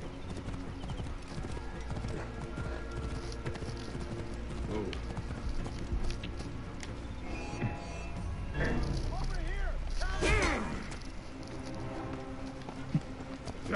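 Horse hooves clip-clopping at a gallop in a video game, a steady rhythmic pounding under continuous game sound and someone talking, with a brief horse whinny partway through.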